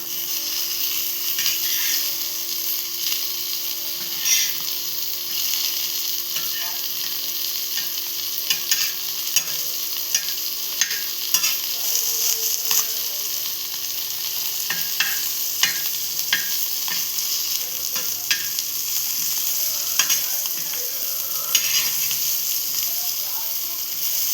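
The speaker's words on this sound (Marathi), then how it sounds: "आता या साईडून पण तिला आपण फ्राय होऊन देऊया इथे पुन्हा एकदा आपण पलटी मारून घेऊया" Mixed small fish, including tiny shrimp, sizzle steadily in a hot pan while being flipped, with frequent light scraping and tapping clicks over the continuous frying hiss and faint speech in the background.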